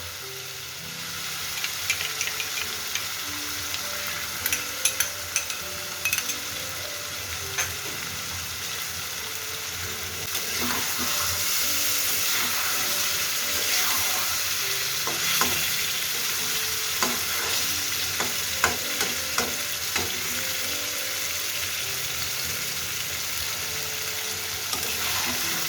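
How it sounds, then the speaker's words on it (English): Masala and chicken sizzle steadily in a pan as curd is stirred in, a continuous frying hiss broken by frequent scraping and stirring clatters. "The masala is very nicely fried with the chicken."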